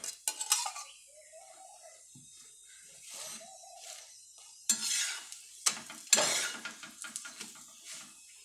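Flatbread (poli) stuffed with sanjori filling roasting with ghee on a hot pan, giving soft intermittent sizzles and scraping, clinking spatula strokes against the pan, with quiet gaps between bursts.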